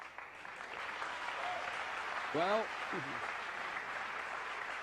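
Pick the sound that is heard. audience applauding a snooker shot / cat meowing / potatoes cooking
audience applauding a snooker shot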